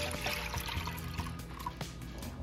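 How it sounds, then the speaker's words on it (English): Four cups of whole milk poured steadily into a stainless steel pot, a continuous close liquid splash and trickle with faint low thumps, no talking. "So I have 4 cups of whole milk here, so I'm going to pour this in"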